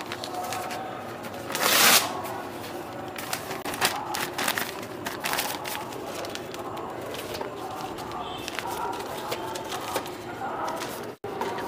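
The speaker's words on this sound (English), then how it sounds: "Now I am wiping out with the help of a newspaper." Newspaper rubbed across a car headlight to wipe off dried toothpaste, a steady papery scrubbing and crinkling close up, with one louder rustling burst early on and a brief dropout near the end.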